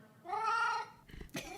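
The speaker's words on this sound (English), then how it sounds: "you can meow at me" A cat meows once in a drawn-out, tonal cry, close and clear, followed by a shorter second vocal sound.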